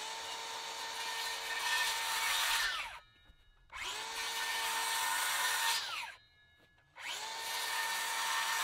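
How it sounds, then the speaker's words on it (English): A power drill whines through three long bursts separated by short pauses, close and loud, driving 6-inch wood screws, spinning down at the end of each run. "Couple 6-inch screws here. Regular wood screw. Regular drill."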